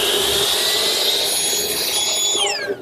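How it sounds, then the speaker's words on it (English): A table saw with its blade and rip fence set to cut a rabbet across the end of square stock howls loudly in a steady high whine, then the pitch drops away as the cut finishes and the blade begins to spin down. "I've set up the rip fence and the saw blade to make a rabbet."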